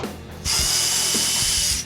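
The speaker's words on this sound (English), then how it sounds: "We'll go ahead and take the Phillips head screws out." A power tool whirs steadily for over a second, backing Phillips head screws out of the underside of a 2023 Honda Accord during an oil change, loud and close after a brief quiet start.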